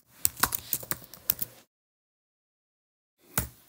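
Quick, uneven keystrokes clatter on a computer keyboard up close, a burst of about a dozen clicks, then a pause of silence before a final key press.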